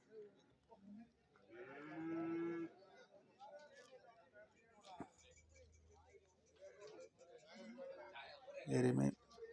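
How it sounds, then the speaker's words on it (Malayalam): Buffaloes and cattle at a cattle market low with two clear, drawn-out moos, one early and one near the end, over faint background shuffling and voices. "എരുമയാണ് ഈ ഭാഗത്ത് നിൽക്കുന്ന കൂടുതലും"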